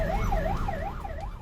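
Ambulance siren on a road, held up by a Baleno car that would not give way; a steady wailing tone rises and falls about every half second, loud and close over low traffic rumble.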